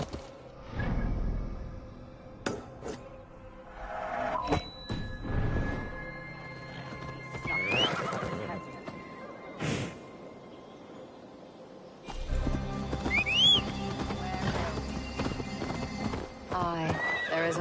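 Repeated horse whinnies and clip-clopping hooves, mixed with whooshes and brief bursts of other game effects, at moderate volume.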